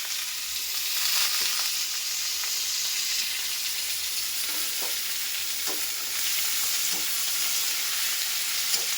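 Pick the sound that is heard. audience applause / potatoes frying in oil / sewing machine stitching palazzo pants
potatoes frying in oil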